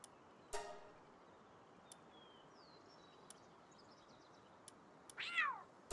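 A cat-like creature in the game Palworld lets out a single short meow near the start and a louder rising meow near the end, with a few faint chirps and clicks in a quiet background.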